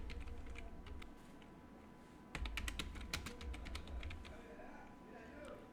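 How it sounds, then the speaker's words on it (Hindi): Clicking on a computer keyboard while names are typed into Excel cells, a quick burst of crisp keystrokes in the middle after softer scattered taps, close and fairly quiet over a faint background hum. "इसी तरह आप सभी नाम को यहाँ पर एक एक करके सभी सेल में टाइप कर लें।"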